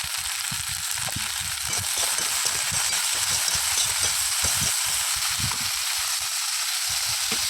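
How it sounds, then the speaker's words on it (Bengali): Spices and vegetables sizzle steadily in a pan while a utensil stirs them, producing a continuous, fairly loud frying hiss with frequent soft scraping and clacking strokes throughout and no voices. "যতক্ষণ ভাজা ভাজা না হয় ততক্ষণ নাড়তে থাকবো"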